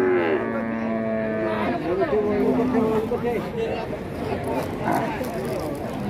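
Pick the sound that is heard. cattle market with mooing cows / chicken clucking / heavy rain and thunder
cattle market with mooing cows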